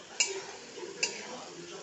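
Two light clinks of a spoon against a pan while Malabar spinach (pui sag) curry is stirred with chili, turmeric, coriander, cumin, fennel paste and ginger paste, over a soft kitchen background.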